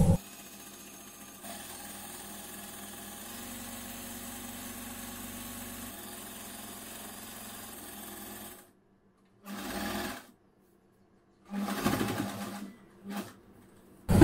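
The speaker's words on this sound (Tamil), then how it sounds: "நம்ம இந்த மடிச்சு வச்சிருக்கிறதுல இந்த எட்ஜில் அப்படியே தச்சு வந்துடலாம்." A sewing machine runs steadily stitching along the folded edge of churidar pants, a continuous close whir for about eight seconds, then stops and gives two shorter bursts.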